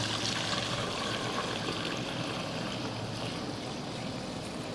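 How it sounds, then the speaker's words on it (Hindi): Homemade fake milk strained through a strainer, a soft continuous trickling and pouring of liquid, faint and steady throughout with no talking. "तो अब इस दूध को, अपने दूध को हम छान लेते हैं"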